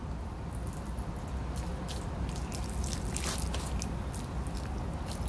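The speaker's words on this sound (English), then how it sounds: "Pour it over the battery to neutralize it." Acid-neutralizing solution poured over a short-circuited lead-acid battery gives a close, continuous wet fizzing and splashing, with scattered drips and bubbly crackles throughout.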